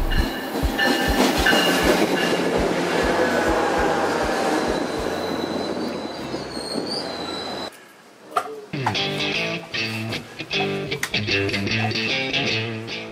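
Loud rhythmic clickety-clack of a commuter train on rails heading to Ogden, Utah, wheels rumbling and squealing, then a sharp shift to a different steady, harmonic hum.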